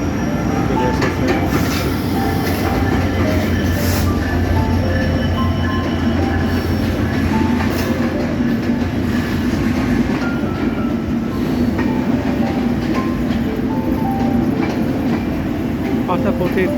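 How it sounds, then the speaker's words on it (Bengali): A train runs along the platform at Santahar railway junction, its loud, continuous rumble and wheel clatter filling the whole stretch, with faint voices mixed in. "দেখতে পাচ্ছেন সেই ট্রেনটি বিভিন্ন প্ল্যাটফর্মে"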